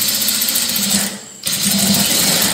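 An electric sewing machine stitching a lined churidar runs in a loud, steady whir, pauses briefly, then starts up again close by.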